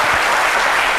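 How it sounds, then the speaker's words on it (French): A brief burst of dense audience applause, close and loud, from a crowd at a televised sale of paintings. "je pense qu'on peut applaudir ça quand même"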